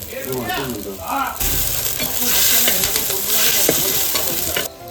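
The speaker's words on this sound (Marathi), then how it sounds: "कांदा टोमॅटो आणि लसूणची फोडणी" Onion, tomato and garlic tempering crackles and sizzles loudly in a hot clay pan, with steady frying hiss, stirring scrapes and a few clinks; a person talks faintly over it at first.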